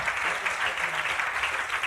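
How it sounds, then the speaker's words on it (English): A crowd claps for a football player at an awards show, with sustained, fairly loud applause from many hands, steady and unbroken throughout. "Give him a round of applause."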